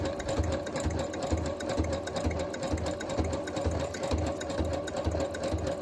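A sewing machine stitches onto cardboard at a low speed setting, its rapid, even mechanical chatter steady and close with no talking.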